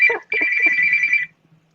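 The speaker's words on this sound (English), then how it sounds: "your phone ringing as well" A telephone rings with a bright electronic tone in two bursts, the second holding steady for about a second before cutting off, heard clearly over a remote call.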